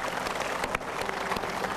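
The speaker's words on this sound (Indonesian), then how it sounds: "tepuk tangan dulu" A seminar audience at an Indonesian entrepreneurship talk bursts into loud, continuous applause, dense clapping filling the room without pause for nearly two seconds.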